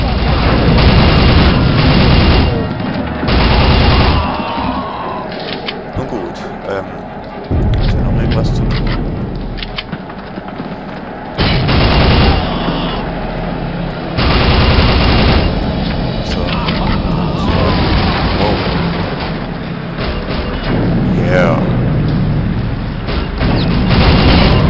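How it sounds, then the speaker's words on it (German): Gunfire and explosions from the video game Soldier of Fortune: loud, dense bursts of shots and booms in repeated blocks, with someone talking over the action. "Alle explodieren."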